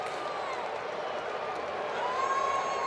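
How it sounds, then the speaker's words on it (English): Crowd murmur fills a baseball stadium during a Los Angeles Dodgers vs Washington Nationals game, a steady, distant wash of voices with a faint whistle tone running through it. "And the crowd getting restless."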